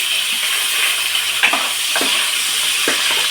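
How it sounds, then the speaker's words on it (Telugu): Onion and green chilli pieces frying in oil for vegetable biryani, a loud continuous hiss and sizzle up close with a few scraping stirs and clinks of a spoon against the pan. "ఉల్లిపాయ ముక్కలు పచ్చిమిర్చి ముక్కలు వేసుకున్నాము"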